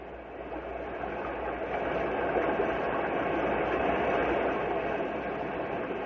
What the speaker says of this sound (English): This is the sound of a swollen river.